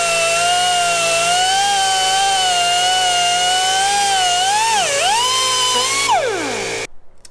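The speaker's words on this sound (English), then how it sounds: "We just used a little air cutoff wheel" An air cutoff wheel grinds through a plastic Jeep JK rear bumper fascia cover, a loud high-pitched whine that wavers in pitch as the cut progresses, then winds down and stops near the end.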